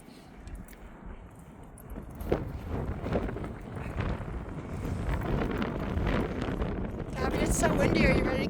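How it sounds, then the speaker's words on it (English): Gusty wind buffets the microphone at an outdoor dog park, a loud rough rumble that swells and grows stronger over several seconds, with speech heard alongside it. "it's so windy"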